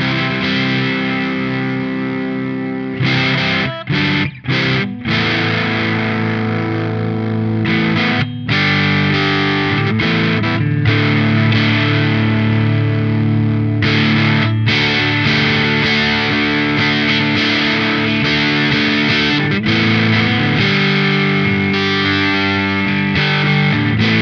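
An electric guitar played through an API Audio TranzFormer GTR pedal in its mild overdrive mode rings out for about twenty-four seconds, with loud, sustained chords and brief pauses between strums.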